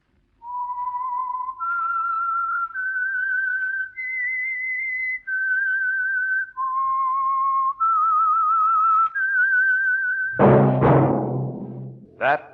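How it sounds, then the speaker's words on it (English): A lone whistler carries the slow signature theme of The Whistler radio show, clear sustained notes stepping up and down one after another, then a sudden burst of orchestral sound near the end. "That whistle is your signal for the Signal Oil Program, The Whistler."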